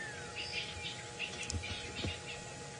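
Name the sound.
guinea fowl alarm calls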